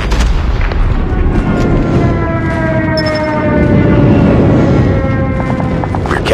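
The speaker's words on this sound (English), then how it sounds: "Friendly airstrike incoming." Airstrike blasts in the game Call of Duty Mobile, a dense rolling barrage of heavy booms and gunfire under a descending whistle of incoming ordnance, loud and continuous throughout.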